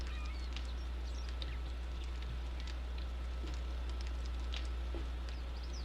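Bird calling in the 7 Days to Die video game: short honking, goose-like cries repeat irregularly over a constant low hum and a soft, rain-like hiss, with no voices.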